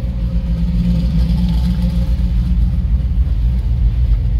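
A 1962 Corvette restomod with a ZZ6 V8 engine runs with a steady, deep idling rumble, close and loud, with no talk.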